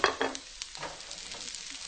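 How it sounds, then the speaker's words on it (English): Asparagus spears are tossed in oil with garlic and shallots over medium heat, making a soft sizzle under a few quick stirring clatters at the start, then a quieter crackle with light scrapes. "Just toss them all around to cook them in the oil."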